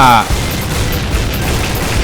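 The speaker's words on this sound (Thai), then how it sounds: "นี่เขาปาระเบิดมาปะเนี่ย" A grenade blast in a first-person shooter game hits as a loud, sudden boom at the start, trailing into a low, rumbling wash of noise.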